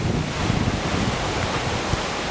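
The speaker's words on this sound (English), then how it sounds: "And listening to this wind" Hurricane Sandy wind roars steadily as a dense, unbroken rush of close, loud noise that buffets the microphone, with no voices.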